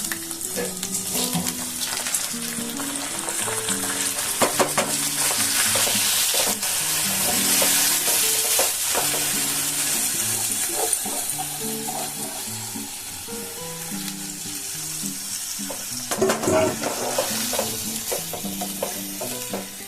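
Rice fries in oil with ground cumin in a pan, a steady bright sizzle running throughout while a utensil stirs and scrapes with repeated knocks against the pan, all close and without speech.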